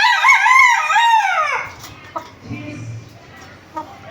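A Golden Boy Sweater gamefowl rooster gives one loud, close crow that lasts about a second and a half. Quieter clucks and scattered farmyard noises follow.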